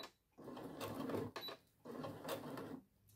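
A domestic sewing machine runs in two steady bursts, stitching a weekend bag half a centimetre from the edge, with brief pauses between runs at close range.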